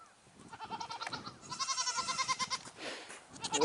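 Goats bleating nearby in a rapid, wavering series of calls, fairly quiet and with several animals overlapping.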